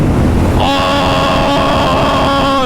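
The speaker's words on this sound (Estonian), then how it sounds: "Täitsa pekkis mis tuul." A very strong wind roars loudly and continuously into the microphone, and a sustained high whistling tone joins in after the first half second.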